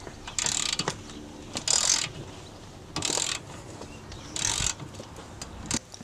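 A ratchet undoes Loctite-secured front brake caliper bolts on a 2007 Vauxhall Astra H 1.3 CDTi. Several close, loud bursts of rapid ratchet clicking come in separate spells with short quiet gaps between them.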